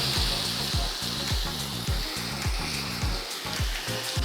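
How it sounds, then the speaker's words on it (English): Satay skewers sizzle loudly on a hot grill, a dense, steady hiss of frying that fills the whole clip, with a faint rhythmic beat pulsing underneath. "I wanna hear the sizzle sound."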